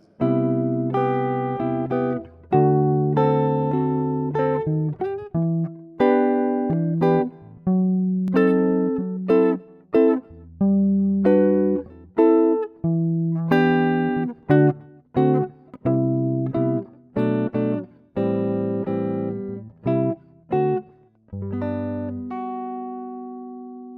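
A sequence of sustained keyboard seventh chords, each struck and held briefly before the next, moving steadily with rich, jazzy harmony and no voices.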